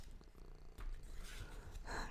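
A cat purring close by in a steady, rumbling drone that swells and fades over about two seconds, loud and continuous with no talking.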